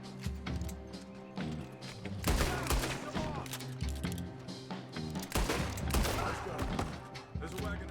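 Gunfire rattles in Red Dead Redemption 2, scattered shots and volleys mixed with game music and other action sounds, fairly loud and continuous with sporadic talk.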